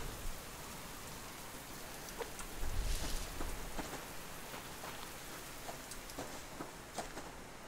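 Steady rain falls and patters on surfaces outdoors, a soft continuous hiss with scattered drop ticks and a brief louder burst near the middle.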